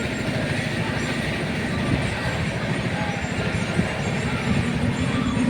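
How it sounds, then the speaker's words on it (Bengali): Inside a passenger train running from Durgapur to Bardhaman, a loud, continuous low rumble and rattle with a faint rhythmic clatter of wheels on rails, steady throughout. "দুর্গাপুর থেকে বর্ধমান ট্রেনে চেপে যাচ্ছি"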